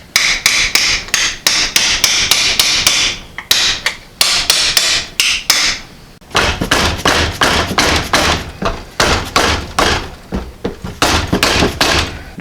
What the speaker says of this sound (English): So I'm just opening her up here with the hammer a little bit